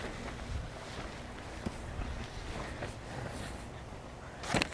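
Outdoor wind buffets the microphone steadily in a broadband rumble while someone assembles a hunting blind, with a few soft rustles and a louder gust-like burst near the end.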